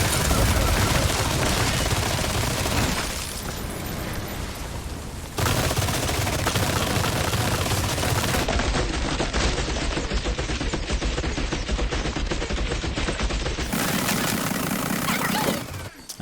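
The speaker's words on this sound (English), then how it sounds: "the gun turret is actually based off of real-life weapon as well, the Maxim MG08" A Maxim MG08 gun turret in Resident Evil 4 Remake fires long sustained bursts of loud rapid machine-gun fire, broken by a brief pause before the shooting resumes, with game sound underneath.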